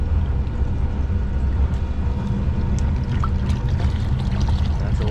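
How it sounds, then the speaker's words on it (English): Water pours steadily from a leaking valve on a York fan coil unit, a continuous loud splashing rush that overflows a drain, with no gaps or talk. "That's a lot of water coming out."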